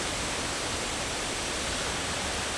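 A waterfall in Highlands, North Carolina roars as a steady, dense rush of falling water, loud and close, with no other sounds.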